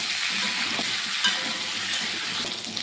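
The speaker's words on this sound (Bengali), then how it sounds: "এই তেলের মধ্যে আলুটাকেও ভেজে নেব দেবো সামান্য একটু হলুদ গুঁড়ো দিয়ে আলুটাকেও ভেজে নেব" Potatoes fry in hot oil with a little turmeric in a kadai, a dense, even sizzle that stays close and loud throughout, with a faint clink of a utensil.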